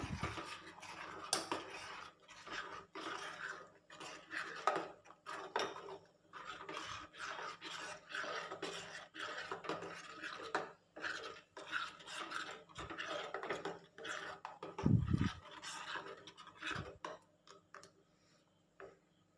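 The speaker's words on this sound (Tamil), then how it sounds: "இது இப்போ நல்லா கிளறி விட்டுக்கலாம்" Ground mango is stirred into an ice cream mixture in a bowl, giving steady rhythmic scraping and rubbing strokes of a utensil against the container with occasional light clinks, close and fairly quiet.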